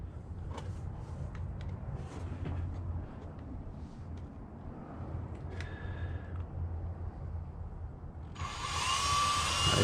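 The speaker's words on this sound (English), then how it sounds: "Now you use your drill." A steady whirring drill boring holes in a knife handle at close range, holding one pitch for several seconds before rising into a louder, higher whine near the end.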